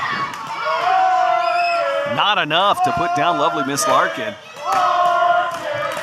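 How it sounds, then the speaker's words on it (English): An arena crowd roars and cheers at a women's tag team wrestling match at Davis Arena, with loud sustained shouting and chanting under a commentator speaking throughout. "Listen to this Davis Arena crowd."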